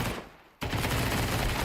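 MP9 submachine gun fire rattles in a dense, continuous burst during a Counter-Strike pro league match, briefly dropping out before the loud automatic fire resumes.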